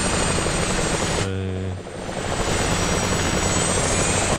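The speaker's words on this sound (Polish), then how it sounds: "Ciekawe, co myśli sobie kamerzysta w śmigłowcu, który mnie nagrywa." In a rally video game, a camera helicopter hovers close by with a loud, continuous rotor drone that briefly shifts tone before settling back into its steady beat.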